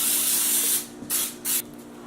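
A baking release spray hisses into a cake pan close up, first in one long spray and then in two short bursts.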